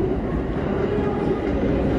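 A train sits humming at platform 3 of Kintetsu Osaka-Uehommachi Station, a steady low rumble of engine and rail noise with no breaks.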